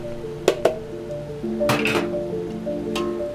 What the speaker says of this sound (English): We're going to take our smoked sausage and drop them in.